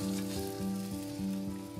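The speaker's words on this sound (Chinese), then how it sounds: "把我们的鱼放入到锅里面" Fish laid into a pan of generously poured hot cooking oil sizzles steadily and fairly loudly, with a faint repeating tonal hum running under the frying throughout.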